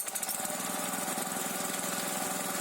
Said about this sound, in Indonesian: Setelah tercampur rata dengan air, maka kita akan melakukan penggilingan menggunakan mesin.